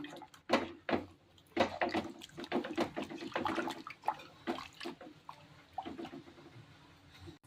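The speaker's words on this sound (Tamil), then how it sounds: "இப்போ ஒரு எலுமிச்சப்பழ சைஸில் புளி கரைச்சி விட்டுருக்கேன். அதையும் ஊற்றி கை வச்சு நல்லா மிக்ஸ் பண்ணிக்கலாம்." Tamarind water is poured into raw fish for a Kanyakumari-style fish aviyal and worked in by hand, giving irregular wet sloshing and squelching splashes, close up with quiet gaps between bursts.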